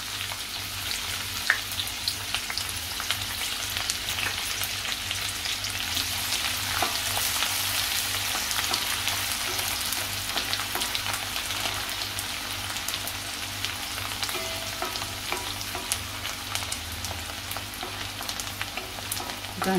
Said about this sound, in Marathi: त्याच्यावरती आपण कांदा घालायचा आहे फोडणीवरती